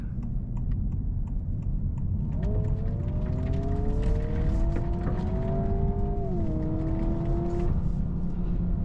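A 2026 Honda Prelude accelerating in sport mode, its synthesized engine note rising in steady harmonic tones with one gear-change dip, over constant road and cabin rumble.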